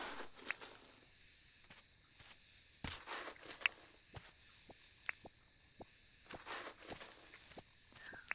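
Steady high-pitched cricket chirping from the video game Dinkum, a continuous insect drone broken by soft footstep-like taps and light pattering, all fairly quiet with no voices.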